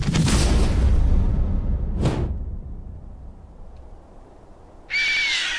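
A harsh screech from the bird Bloodwing in a video game bursts out at the start, a short swoosh comes midway, and another shrill high cry arrives near the end.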